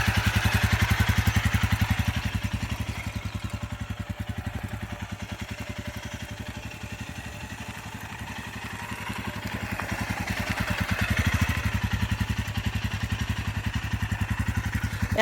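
A motorcycle engine idles and runs with a rapid, even thumping pulse, swelling slightly louder toward the end as the rider moves off and turns, with no talk over it.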